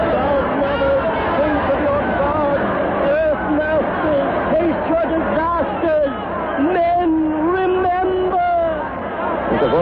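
A large panicked crowd in a radio drama mills and murmurs in a continuous babble of many voices, loud and close, with occasional shouts rising out of the mass.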